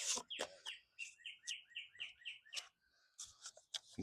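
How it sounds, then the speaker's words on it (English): Small birds chirp and tweet in quick repeated bursts outdoors, a lively run of bright calls with brief pauses, fairly close and alone with no talking. "Wow, those birds are happy."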